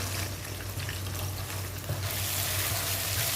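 Blended spice paste for jengkol balado sautés in oil reused from frying jengkol, a dense close sizzle and crackle with stirring scrapes, steady throughout and slightly louder in the latter half, with no voice.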